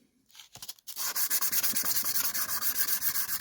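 Rainbow boulder opal is rubbed flat on 1000-grit sandpaper, a close, steady rhythmic scrubbing of repeated strokes after a few hesitant starts.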